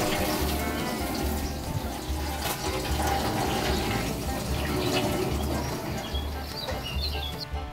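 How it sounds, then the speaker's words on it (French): Hot water poured into a container to dilute rust converter during a Maserati restoration, a steady continuous splashing fill with a low rhythmic pulsing hum underneath, close and alone without speech. "on dilue le convertisseur de rouille dans 1 litre d'eau chaude cette fois"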